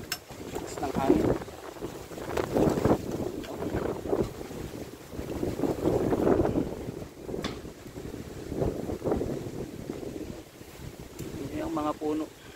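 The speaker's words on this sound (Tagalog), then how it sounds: "Lakas ng hangin." Strong wind ahead of a typhoon buffets the microphone in loud, rolling gusts, and a voice speaks briefly beneath the roar.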